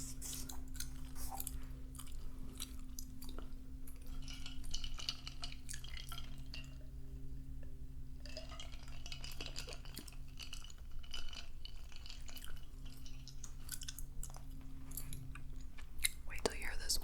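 Close, wet gum chewing right at the microphone, with a steady run of soft smacks and clicks over low hum and a near-whispered hush, with brief quiet gaps between bursts.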